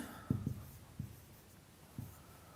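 Chalk tapping and scratching on a classroom board during a Bangla geometry lesson on the Pythagorean theorem: a few short, faint strokes spaced irregularly, with quiet room tone between them and no one speaking.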